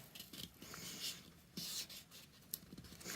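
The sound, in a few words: folding a paper pillow box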